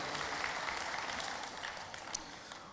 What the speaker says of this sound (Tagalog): hatagig masipang palakpak ang Ginoo